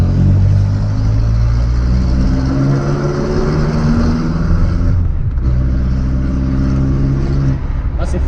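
Volkswagen Golf SDI diesel with a full exhaust given a blip of throttle: loud, rough engine drone swelling and holding, dipping briefly near the end, with no talk over it.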